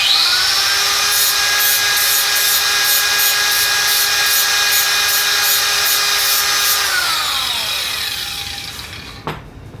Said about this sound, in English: I'm just gonna kind of grind it flat